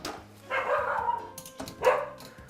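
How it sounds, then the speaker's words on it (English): A pet dog barks twice indoors in a kitchen, each bark loud, close and drawn out, with no talking during the barks. "That's my dog Winston."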